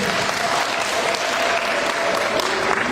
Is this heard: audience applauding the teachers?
yes